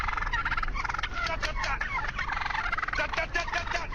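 A large flock of around eighteen turkeys gobbles continuously in a dense, overlapping chorus of warbling calls, loud and close, with no speech.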